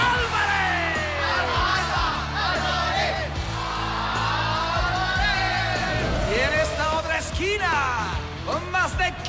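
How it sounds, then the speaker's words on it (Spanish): A game-show team shouts its lucky chant together in a loud, excited burst of overlapping yells and whoops, sustained throughout over a noisy studio. "el mejor grito de cábala"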